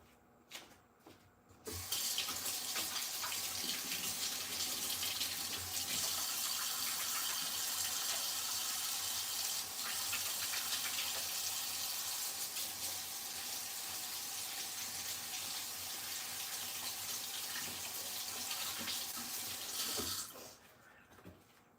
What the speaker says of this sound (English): let me wash my hands, guys